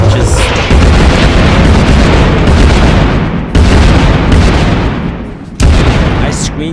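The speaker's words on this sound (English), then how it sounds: "That's a lot of explosions." Loud, overlapping booming blasts from doom plants in the Plants vs Zombies video game roll in dense waves, with two sharp new explosions cutting in partway through and a voice faintly underneath.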